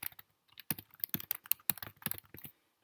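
Typing on a computer keyboard, a burst of quick, uneven key clicks close up, with short pauses between clusters and a final lone tap.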